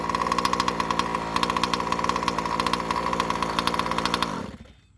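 A running chainsaw engine idles loudly and close with a steady buzzing drone, then is cut by a remote kill switch and dies away in under a second to near silence.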